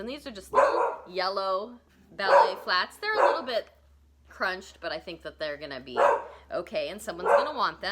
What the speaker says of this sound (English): Sorry for the barking dog.